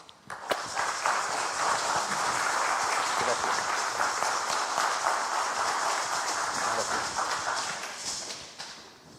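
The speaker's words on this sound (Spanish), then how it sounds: "Lo recibimos con un muy fuerte aplauso" Loud, sustained applause from a large crowd, a dense roar of clapping that swells quickly, holds steady, then tapers off.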